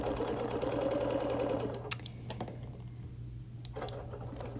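A sewing machine stitching in the ditch between a white centre and a print fabric on a quilt, its fast rhythmic whir running steadily for about two seconds before stopping into quieter clicks and handling noise.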